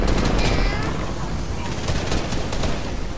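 Dense, continuous gunfire in a video game rattles through the whole stretch, a loud, unbroken wall of shots and impacts with no pauses and no clear talk.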